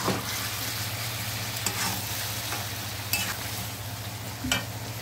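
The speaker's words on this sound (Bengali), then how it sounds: "আলু বেগুন ভালো করে ভেজে নিয়েছি তো দিয়ে দেবো। আর এই যে 4-5টা চেরা কাঁচা লঙ্কা দিয়ে দিলাম" Fried potato, aubergine and slit green chillies sizzling in a pan for a fish curry, a steady close frying crackle with a few sharp stirring scrapes and clicks, no voices.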